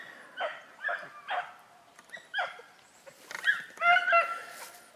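Several beagles bark in excited bursts while chasing a rabbit, a few clustered yelps then overlapping baying calls, moderately distant outdoors with no talking.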